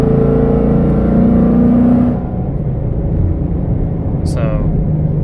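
A Ford Mustang S550 engine pulling in fifth gear on a wet road, loud steady drone that drops off partway, with a car passing faintly near the end.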